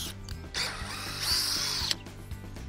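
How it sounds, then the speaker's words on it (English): A power drill drilling a pilot hole for a gate anchor whirs in short bursts, spinning up to a high whine for about a second before stopping, close and fairly quiet. "Drill a pilot hole"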